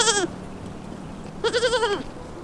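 Goats and sheep from a Himalayan shepherd's flock bleat twice, a short call followed by a longer wavering one a second later, clear and close with no talk.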